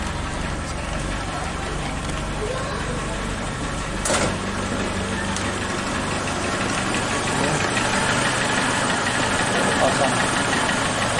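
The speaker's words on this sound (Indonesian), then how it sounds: "RPM-nya rendah sekali." A Suzuki Katana engine idles at low RPM after its carburetor solenoid switch was cut, giving a steady, even mechanical rumble with a single sharp click partway through.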